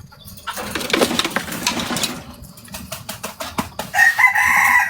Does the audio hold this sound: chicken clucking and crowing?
yes